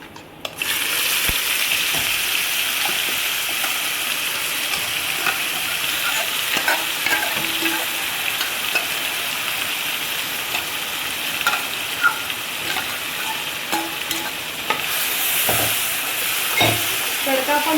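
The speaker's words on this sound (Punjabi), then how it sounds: "ਹੁਣ ਆਪਾਂ ਜਿਹੜਾ ਆਪਾਂ ਗ੍ਰੈਂਡ ਕੀਤਾ ਤੜਕਾ ਉਹ ਆਪਾਂ ਸਾਰਾ ਪਾ ਦਿੰਦੇ ਆ" Ground tempering with roasted cumin tipped into a hot pan for bottle gourd kofta curry, sizzling loudly up close while a spoon stirs and scrapes in repeated strokes, with no talk.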